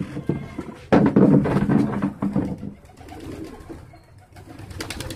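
Domestic racing pigeons coo on a rooftop loft in India, soft throaty rolling calls close by that swell and fade, with occasional light knocks and rustles.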